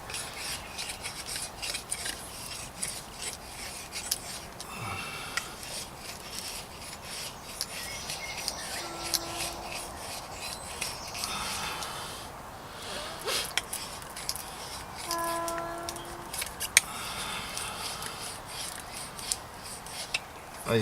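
A parang knife carves and shaves wood outdoors, giving repeated close rasping scrapes and strokes at an uneven pace, with occasional brief knocks between cuts.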